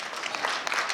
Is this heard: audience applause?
yes